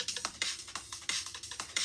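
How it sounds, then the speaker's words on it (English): Drum and bass beat from GarageBand playing quietly in the background: fast, busy hi-hat and snare-like hits in a steady driving rhythm, faint and thin, with no voice over it. "what you're hearing is the drum and bass in the background"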